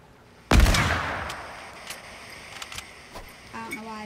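In the video game Fortnite, one loud gunshot blasts out and echoes away, followed by scattered small clicks and mechanical ticks.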